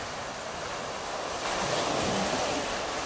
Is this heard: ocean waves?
yes